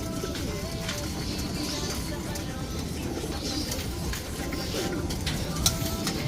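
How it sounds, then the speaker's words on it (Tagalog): Pigeons feeding at a loft, a steady mix of soft cooing and scattered bird calls with pecking and shuffling noise underneath, fairly close and continuous throughout. "Oh, sarap ng kain ng mga ibon natin."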